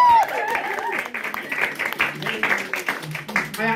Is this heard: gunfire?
no